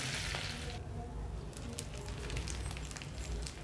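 Fish wrapped in banana leaf fries slowly over a low flame, Kerala meen polichathu style, giving a steady soft sizzle with faint crackles and a low hum underneath. It continues unbroken and moderately quiet throughout.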